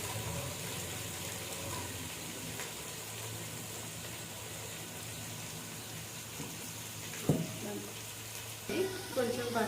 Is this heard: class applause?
no